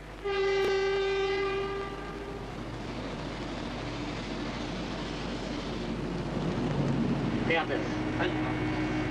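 A Shinkansen Hikari bullet train departs westward at 9 a.m., opening with a loud sustained horn blast, then a steady rumble and hiss of the moving train, with a brief chime or signal near the end.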